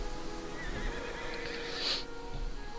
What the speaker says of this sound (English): Like with the horses. The mad horses.